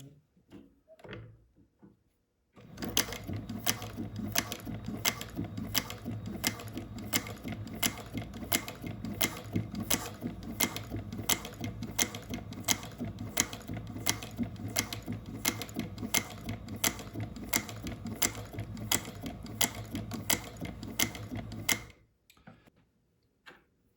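A Juki 1541s industrial sewing machine runs continuously for about twenty seconds, a fast, steady mechanical ticking and clatter heard up close, bracketed by quiet handling sounds before and after.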